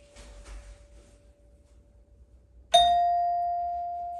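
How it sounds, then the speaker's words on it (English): A single bell-like doorbell tone sounds after a few seconds of quiet room noise, striking once and then fading slowly. "Now I'm gonna go hit the rear doorbell."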